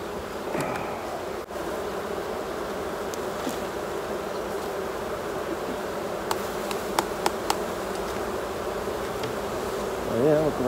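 Honeybees buzzing steadily around a beehive during a honey harvest, a dense continuous drone close by with a few brief knocks and rustles, no talk.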